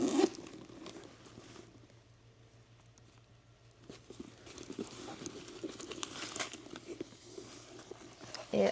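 Quiet rustling and crinkling of a Coach handbag being handled, with short rasps of a plastic-covered zipper and scratchy bursts, close up and intermittent.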